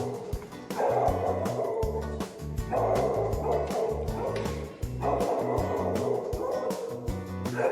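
A puppy barks and yips in quick, repeated bursts, loud and close, with brief whimpering notes between the barks.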